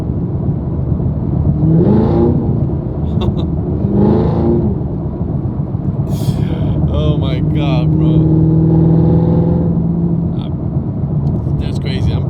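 A Camaro SS fitted with an AWE Touring non-resonated catback exhaust gives a few light throttle blips, deep rumbling swells rising and falling close by, while someone talks excitedly over it.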